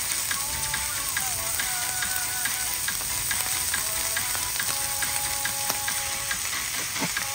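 Shredded cabbage and mixed vegetables sizzling steadily in a hot pan for lumpiang gulay filling with minced beef, a constant close crackle with occasional stirring scrapes and no talking.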